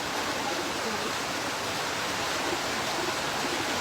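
Floodwater from a river swollen by dam release in Marilao, Bulacan, rushes in a steady, loud, broadband roar that holds unchanged and close throughout, with no voices.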